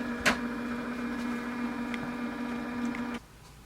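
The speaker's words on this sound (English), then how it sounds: "you hear the printer has started to print now" Canon TR4527 inkjet printer printing a page, a steady mechanical whirring hum with a few clicks and ticks, then cutting off abruptly near the end, close and fairly quiet.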